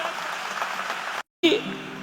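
An audience applauding at a live event, with dense clapping for about a second before an abrupt cutoff and brief silence, after which a voice begins speaking.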